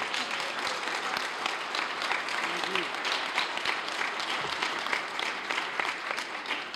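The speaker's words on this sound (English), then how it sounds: "Let's give Steve another round of applause" A homecoming crowd applauds gold medalist Steve Mesler with sustained, fairly distant clapping, and faint voices sound under it.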